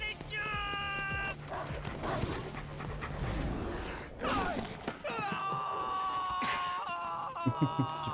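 Dogs whimper and whine during combat in Final Fantasy VII Remake, with high plaintive whines rising over game music and effects, someone talking over the action.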